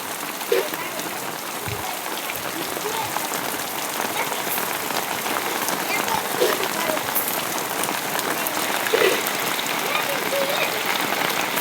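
Heavy monsoon rain pours steadily on farm fields and nearby surfaces, a dense, unbroken hiss of drops with faint thuds, continuous and loud throughout with no talking.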